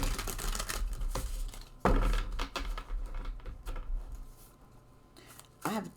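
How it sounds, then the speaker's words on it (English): Tarot cards from a Good Omens deck being shuffled close up, with crisp riffling, slapping and brushing bursts in an irregular rhythm, loud near the start and trailing off into lighter card handling. "multiple shuffling styles because I like to get the cards really mixed up"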